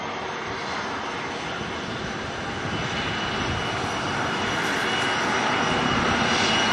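An Airbus A321neo airliner at Auckland Airport roars with a broad, steady jet rumble that swells slightly louder as it passes, heard alone and fairly close.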